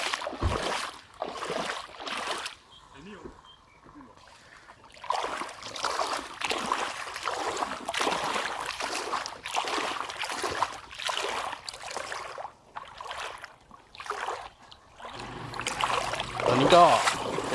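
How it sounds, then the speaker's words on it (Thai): A fishing boat moves across floodwater over flooded rice fields near the Mun River, with soft water sloshing and trickling heard up close while someone talks over much of it. "นี่เรือหาปลา"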